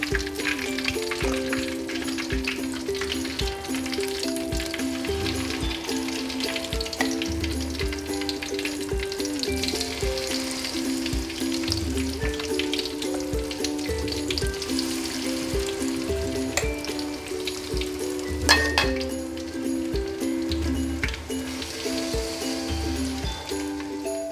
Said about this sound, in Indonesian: Kemudian kita goreng bakwannya ya.